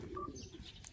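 Pigeons being fed in a loft give soft, low coos close by, with a brief higher chirp near the end and no voices over them.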